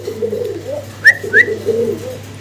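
Soft, low pigeon cooing repeats through the clip, joined by a couple of sharp higher bird chirps, close by and with no talking.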